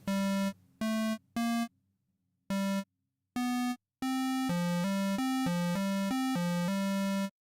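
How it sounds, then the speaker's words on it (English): Bright buzzy synthesizer tones sound in short separate bursts, then a quick run of rapidly changing pitches plays without pause. "Okay, I play that with the other oscillator."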